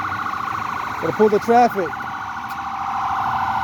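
A wavering emergency siren from an ambulance at a traffic accident scene in Boston, sounding steadily through the clip at moderate distance while someone speaks briefly over it.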